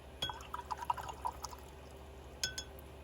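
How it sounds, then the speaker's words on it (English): A paintbrush swishes and taps in a glass of water during watercolor painting, producing quiet clinks and light sloshing in small bursts, then a brief pause before two more taps against the glass. "Let's muddy up our water a little bit."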